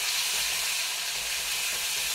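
Spice masala sizzles in hot oil in a pan, a dense, steady, loud frying hiss that carries on without a break, with no voices.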